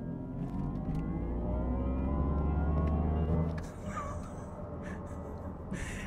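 Mercedes EQE AMG electric car pulling away with its synthetic acceleration sound, a layered humming whir rising steadily in pitch over several seconds, then fading as the car moves off, with faint background noise after.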